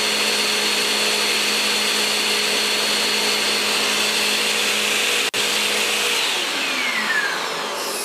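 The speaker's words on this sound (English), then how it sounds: "The vacuum's pulling 900 watts." A vacuum cleaner runs steadily at close range, powered by a Refuge 100 Pro portable solar generator and drawing about 900 watts, a loud continuous whine with a brief dropout near the five-second mark.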